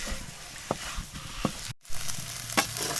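Semolina roasting in ghee for halwa, a steady close hiss of frying with a few soft spatula scrapes and a brief dropout in the middle.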